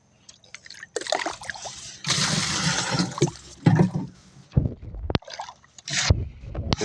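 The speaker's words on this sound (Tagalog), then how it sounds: "Ito naman yung tubig." Water from a one-gallon container is poured onto cucumber plants in a Philippine farm plot during fertilizing. It comes as several splashing, trickling bursts with short pauses between them, close and fairly loud.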